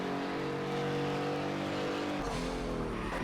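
A Pagani in the Project CARS racing game accelerates with a loud, sustained engine whine that rises in pitch, then drops and restarts near the end as it shifts gear, alone without talk.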